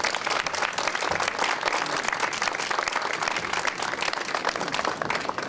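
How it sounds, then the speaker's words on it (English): Sustained audience applause fills a theatre at a ribbon-cutting ceremony, dense and steady clapping from a large crowd throughout, with no speech over it. "if you could all give the center and the community a round of applause"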